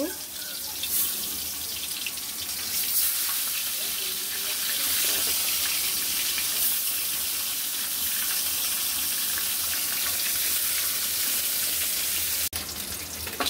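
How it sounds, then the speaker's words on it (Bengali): Pabda fish fry in hot oil in a wok, a steady loud hiss and crackle that continues without break under faint occasional spatters. "একদিকে আমি কড়াই বসিয়ে দিয়েছি, তেল দিচ্ছি। এখন মাছগুলোকে ভেজে নিব।"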